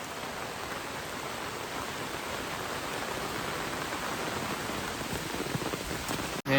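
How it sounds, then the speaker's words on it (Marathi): Heavy monsoon rain drums on an open umbrella near a swollen village river, a dense, unbroken patter heard up close with no voices, ending in a brief handling click. "पावसाचा फोर्स मित्रांनो परत वाढला आहे तुम्हाला आवाज येत असेल छत्रीतून"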